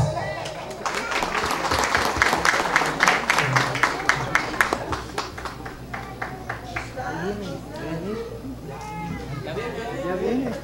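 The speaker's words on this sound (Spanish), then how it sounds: "Recibámoslo con fuertes aplausos al ingeniero Erwin Danilo Velázquez" Crowd applause welcoming an engineer at a village inauguration of three classrooms, a burst of distinct claps rising and then thinning out as people begin talking.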